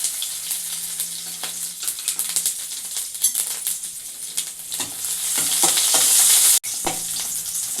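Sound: crushed garlic and mustard seeds frying in hot ghee

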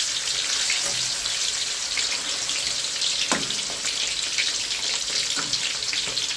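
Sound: frying frog with garlic and pepper

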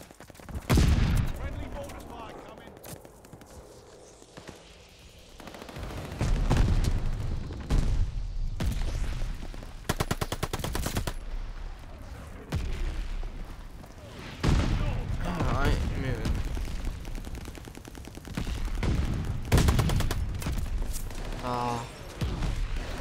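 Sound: sustained gunfire in the video game Call of Duty: Vanguard

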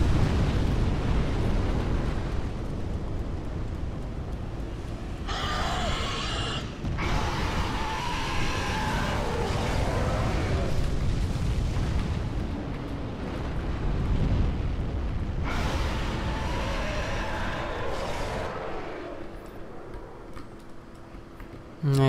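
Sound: dragon breathing fire in Dark Souls 3 video game

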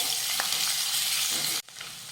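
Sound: sautéing ginger garlic paste in a pan

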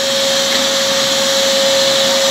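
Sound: vacuum cleaner hoovering

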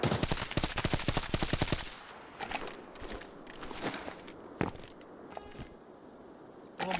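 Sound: gunfire in video game Arena Breakout Infinite

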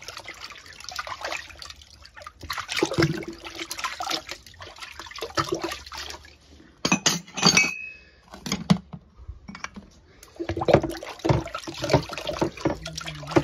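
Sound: washing cups and dishes with running water

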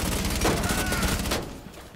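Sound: gunfire in the video game Rainbow Six Siege

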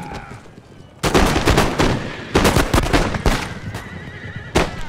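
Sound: horses and cannon fire in Empire Total War video game

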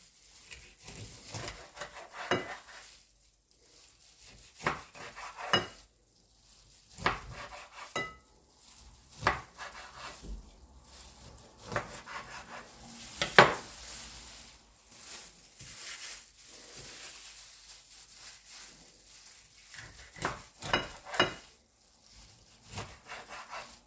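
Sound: knife cutting cleaned mackerel into pieces

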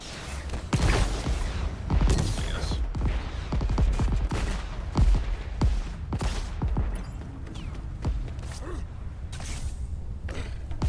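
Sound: enemy gunfire in video game Crackdown 3

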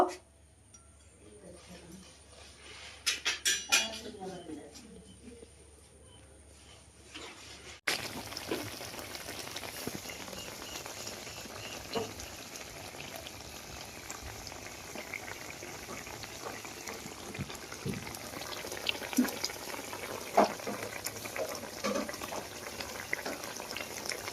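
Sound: curry simmering and boiling in a pan

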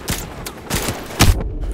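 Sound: explosion from a video game, Call of Duty Modern Warfare Remastered

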